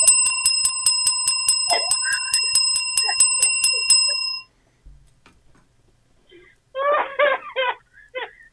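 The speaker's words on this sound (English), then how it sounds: "Yeah, here's the bell." A hand bell rings in a rapid series of bright, sustained dings for about four seconds, then falls silent; a voice speaks briefly afterward.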